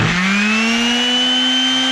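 Power sander working on bass boat seats, a loud steady whine that rises slightly in pitch as it spins up, close and alone.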